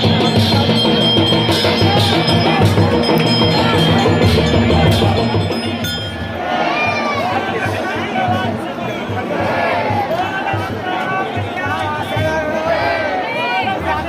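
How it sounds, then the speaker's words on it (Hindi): A large festival crowd gathered for Maa Nanda's palanquin sends up dense, loud babble and hubbub, with many overlapping voices and occasional clinks close by. "यहाँ पर भीड़ का ये आलम था कि दूर दूर तक लोग खड़े थे"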